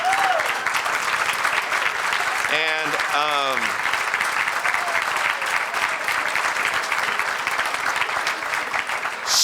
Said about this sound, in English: You could stand and clap for that.